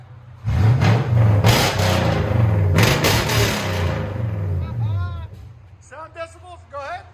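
A Toyota Sequoia 4.6L V8 with a true dual straight-pipe exhaust revs loudly up close in a few sharp pulls, then settles as excited voices talk over the fading engine.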